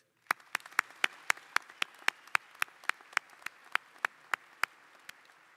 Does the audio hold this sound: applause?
yes